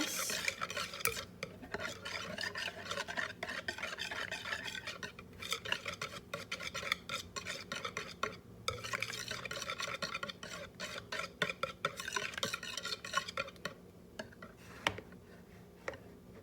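Mug cake batter stirred briskly in a mug, a fast rhythmic tapping and scraping of a utensil against the sides, continuous and close with brief pauses.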